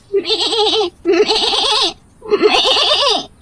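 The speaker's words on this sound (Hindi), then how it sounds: "उसे कहीं से बकरी के मिमियाने की आवाज सुनाई पड़ती है" A goat bleats three times up close, each call long and quavering, with short silent gaps between them.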